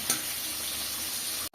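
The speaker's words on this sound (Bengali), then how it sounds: "এবার মাছটা ভাজা হোক" Fish fries in a pan with a steady, even hiss of hot oil at close range, broken by one small pop near the start, before the sound cuts off abruptly.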